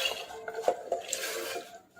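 Soaked, drained peas tipped into a pressure cooker for ragda, a short burst of close metallic clatter and rattling as they land and knock against the pot.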